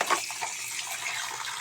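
Tap water runs steadily into a sink while dishes are washed by hand, a soft continuous splashing hiss with a brief clink at the start and no talking.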